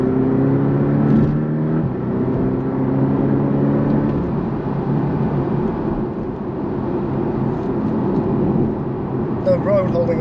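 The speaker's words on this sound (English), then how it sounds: "let's give it another push at sport mode" A Porsche 718 Cayman (982) pulls hard in sport mode, its engine note climbing through the gears with audible shifts, under steady road and wind roar, while a driver talks over the drive.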